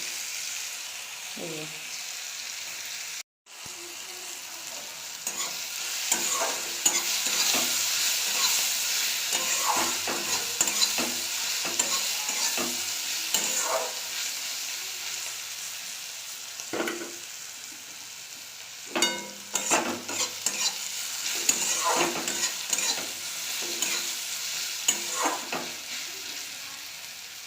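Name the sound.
onions and garlic frying in a pan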